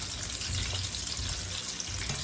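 Chicken pieces for General Tso's chicken frying in oil at about 380 degrees, a steady, hissing sizzle that holds at an even level throughout.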